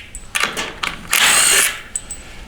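Power tool spinning out 13mm bolts from a Ford 10R80 ten-speed transmission case on a 2019 Mustang, several short close bursts of whirring and ratcheting, then one longer sustained spin before brief taps.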